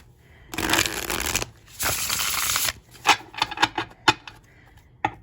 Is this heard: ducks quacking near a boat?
no